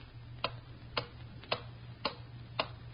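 Clock ticking used as a sound effect in a 1939 radio news broadcast, with five crisp, evenly spaced ticks about half a second apart, moderately loud over a faint low hum, no voices.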